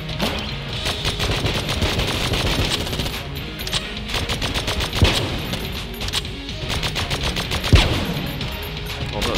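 Rapid gunfire from the straight gun in the twin-stick roguelike Enter the Gungeon, a dense continuous burst of shots with a few heavier impacts standing out, loud and steady throughout with no talking.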